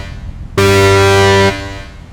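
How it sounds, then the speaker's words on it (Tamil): A single loud, deep ship horn blast lasting about a second, then cutting off abruptly, with a faint rumbling background before and after. "பெரிய கப்பல்களில் ஒலிக்கும் ஹாரன் சத்தம் கேட்டு"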